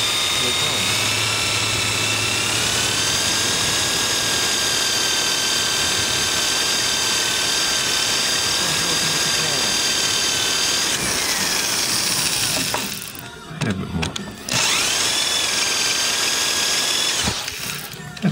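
A drill bit grinds through a rivet in a continuous whining drone, breaking off briefly for some clattering knocks before drilling resumes, close and loud.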